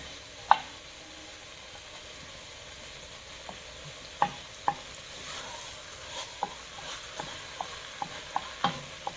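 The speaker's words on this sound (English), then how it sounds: "my meat is browning away" Grass-fed ground beef browns in a pan with a quiet, steady sizzle, punctuated by a series of sharp clicks and scrapes from stirring, with no one talking.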